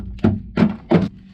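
Three dull cracking thunks in an even rhythm as dry-ice-frozen sound deadening cracks inside a Honda Civic, close and fairly loud, with nothing else heard.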